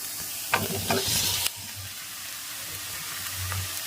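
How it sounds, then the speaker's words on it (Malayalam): Brinjal pieces tossed into softened onions in a pan for a Kerala-style village recipe, giving a short stirring scrape and a steady low sizzle of frying, close and moderately loud with no talk. "അപ്പൊ നമ്മൾ ഇനി ഇതിനകത്തോട്ട് ഈ നമ്മൾ വെച്ചേക്കുന്ന വഴുതനങ്ങയും ഇടുവാണ്."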